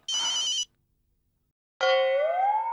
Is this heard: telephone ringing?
yes